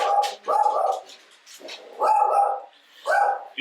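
A dog barks in three loud, close bursts, each a short cluster of sharp barks, with brief pauses between them and no talking.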